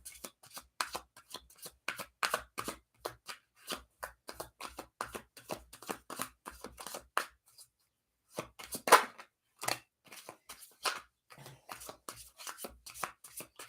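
Oracle cards being shuffled to draw a card, a long run of crisp riffling and flicking bursts up close, broken by a short quiet gap midway.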